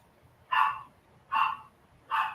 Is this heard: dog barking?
yes